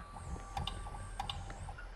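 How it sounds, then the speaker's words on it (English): A 3D printer machine runs inside the Sons of the Forest video game, giving a steady mechanical hum broken by repeated ratcheting clicks and short whirring pulses, moderately close and with no talking. "It's a 3D printer."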